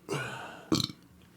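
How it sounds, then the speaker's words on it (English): Two close, loud burps, a long gurgling one followed by a shorter, sharper one, with nothing else around them. "There's going to be a lot of burps in here"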